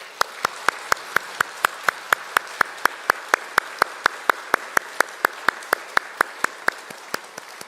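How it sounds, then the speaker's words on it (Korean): A church congregation applauding together in unison, sharp rhythmic claps repeating at a steady even beat for several seconds, loud and clear with no talk over them. "함께 박수하도록 하겠습니다"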